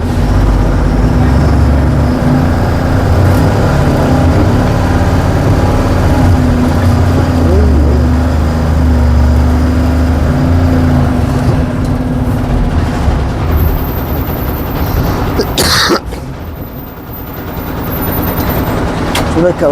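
A truck loaded with cotton bales pulls away on a route from Yemmiganur toward Gujarat, its engine a steady, loud rumble throughout, with a brief sharp disturbance near the end and voices murmuring faintly underneath.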